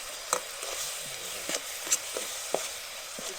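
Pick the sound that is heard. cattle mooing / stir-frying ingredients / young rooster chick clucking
stir-frying ingredients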